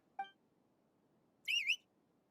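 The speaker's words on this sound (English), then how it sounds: "Whistle." A short whistle sounds in the video game Genshin Impact: a brief faint tone comes first, then a louder rising-and-falling whistle that lasts about a quarter second, heard over a quiet background.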